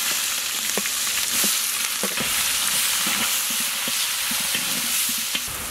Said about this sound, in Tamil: கட் பண்ணி வச்சுக்கிற வெங்காயத்தையும் சேர்த்துக்கலாம்.